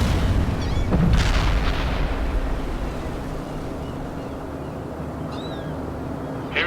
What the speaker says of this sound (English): Artillery firing for effect.